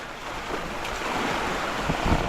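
Rough Pacific Ocean surf churns under strong gusting wind, a dense, constant roar of waves and buffeting air close to the microphone with no talking.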